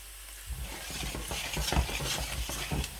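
Steady sizzling of onions frying in hot oil for rice, with occasional stirring clatters and scrapes close by; no voices.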